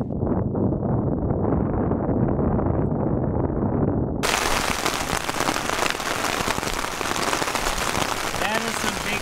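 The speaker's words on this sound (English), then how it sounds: "Like marble-sized hail falling." Marble-sized hail falls in the high, off-trail Wind River Range of Wyoming, first as a softer muffled rush and then as a loud, dense, close-up pelting that continues steadily.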